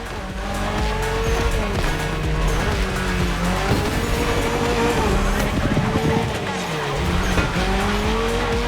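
Toyota GR86, a lightweight car with a naturally aspirated engine, races through neon-lit city streets in a video game, engine roaring steadily with repeated tire squeals and skids, loud and continuous throughout.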